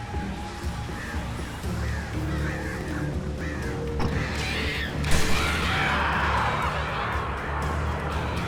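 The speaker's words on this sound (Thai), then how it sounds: "อยากเข้ามาเจ้าอีกา" Crows caw in the video game Alan Wake Remastered, several harsh calls repeating through a dense game soundscape with a sudden crash midway, while someone talks over the top.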